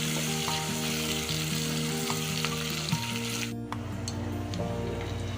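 Three large sliced onions frying in oil for mutton biryani, browning to golden. A close, continuous sizzle with an occasional stir runs throughout, over a low steady hum.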